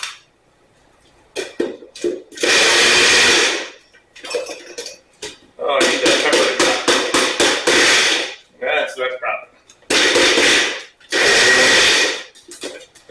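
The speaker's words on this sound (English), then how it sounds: "I'm going to blend this very briefly, just to chop it up." A blender pulses briefly to chop rouille ingredients for a bouillabaisse, loud and close in several short whirring bursts separated by pauses, with some clatter in between.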